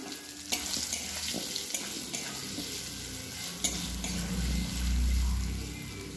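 Baby corn frying in hot white oil in a pan, giving a steady, close sizzle with occasional scraping stirs and a deeper bubbling swell near the end, with no voices.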